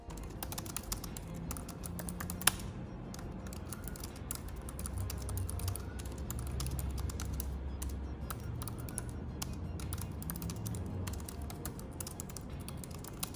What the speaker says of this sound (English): the clicking sound it makes when you're typing